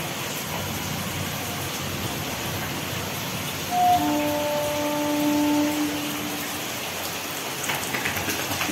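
Steady rain patters on a rooftop, a dense even hiss throughout with a brief faint tonal whine in the middle.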